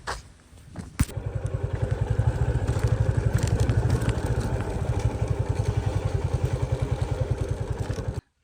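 A motorcycle rides along a mountain road toward a homestay, its engine close and loud with a fast, even thumping pulse that runs steadily after a sharp knock near the start, then cuts off abruptly.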